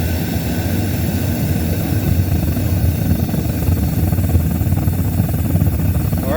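A metal-melting furnace, cranked up to full heat, gives off a steady, loud, close roar with a deep rumbling low end that holds unchanged throughout.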